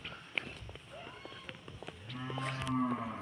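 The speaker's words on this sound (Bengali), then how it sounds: "ওটা কিরকম হচ্ছে গরুর আওয়াজ কিভাবে বের করে?" A cow moos once in a village, a low drawn-out call near the end, preceded by scattered light clicks and footsteps, at moderate distance and fairly quiet.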